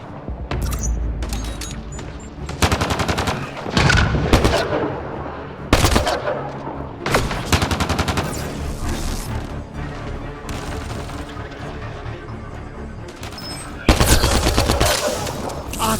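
Gunfire rattles through a Mass Effect Andromeda battle in repeated automatic bursts and heavy booming blasts, loud and dense with short pauses between volleys.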